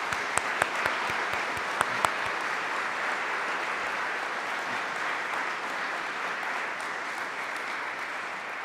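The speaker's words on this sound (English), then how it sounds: "please join me in a nice round of applause for them" A room full of guests at an Order of Manitoba investiture ceremony applauds steadily, with a few sharp individual claps standing out at the start before the sound settles into an even wash.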